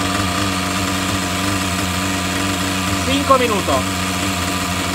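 A Hyper 7 Pro small engine idles steadily after carburetor adjustment, a constant mid-pitched putter with someone speaking briefly over it near the end.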